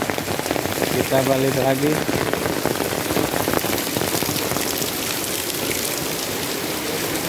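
Heavy rain pours down steadily, a dense close hiss of drops drumming on surfaces, with someone speaking briefly over it.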